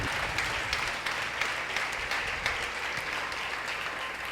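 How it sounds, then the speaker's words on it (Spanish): A congregation applauds continuously in a church service, dense steady clapping filling the space without pause, no one speaking over it. "Denle ese aplauso al Rey."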